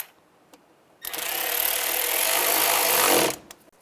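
Power driver tightening radiator fan screws on a 2005-10 Volkswagen Jetta, one loud continuous whirring burst of about two seconds, close up, with quiet moments before and after.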